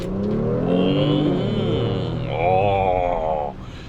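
A Honda Pilot with a naturally aspirated 3.5-liter gasoline V6, 10-speed automatic and four-wheel drive accelerating, its engine note rising steadily and swelling into a loud, sustained rev from inside the cabin before easing off.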